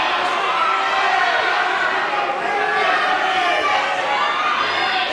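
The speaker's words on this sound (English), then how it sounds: "the crowd are chanting Oscar, Oscar" A boxing crowd chants a fighter's name in unison during a bout, a dense roar of many voices that stays loud and continuous throughout.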